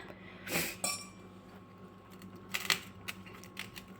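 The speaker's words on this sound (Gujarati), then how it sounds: "હવે આપણે ચમચીથી એને પાથરી લઈશું" An oiled spoon spreading khichu dough, giving a few light clinks and scrapes against a metal plate, soft and close with quiet gaps between them.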